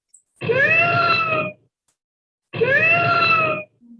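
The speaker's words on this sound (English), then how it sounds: "So I'm going to play a few sounds here for you of a bobcat." Two drawn-out, harmonic bobcat calls, a yowling screech each lasting about a second, separated by a short silence, loud and close.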